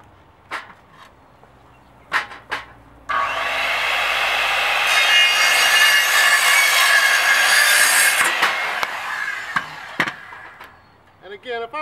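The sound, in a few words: saw cutting pear tree firewood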